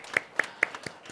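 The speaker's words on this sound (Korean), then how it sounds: "박수 한번 하도록 하겠습니다." Claps in a church congregation during a Sunday worship service, four sharp, evenly spaced hand claps in a brief burst, close and distinct with no talking.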